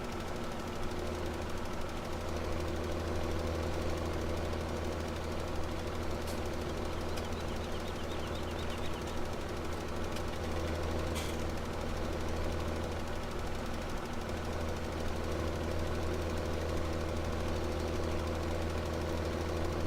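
A New Holland tractor in the video game Farming Simulator 17 runs with a constant, loud engine drone and a low knocking hum, steady and close for the whole stretch with no talking.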